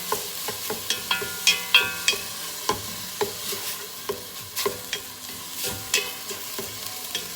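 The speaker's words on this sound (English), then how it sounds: "so just let it saute a few more seconds" Spaghetti meat sauce sautés in a pan, a close, steady sizzle punctuated by regular scraping stirs, about two per second, with no voices.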